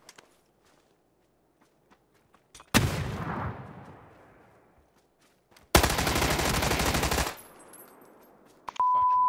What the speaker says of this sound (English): I'm just having some fun with a Tommygun.